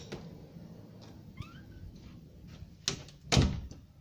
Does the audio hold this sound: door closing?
yes